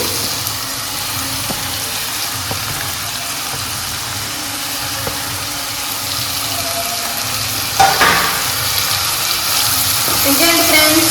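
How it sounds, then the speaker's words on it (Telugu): Onions fry in a pan with ginger garlic paste and curry leaves for a chicken and egg dish, giving a steady, dense sizzle throughout, with a brief clatter near the end. "ఆనియన్స్ కొంచెం వేగిన తర్వాత అప్పుడు అల్లం వెల్లుల్లి పేస్ట్ కరివేపాకు వేస్తాను"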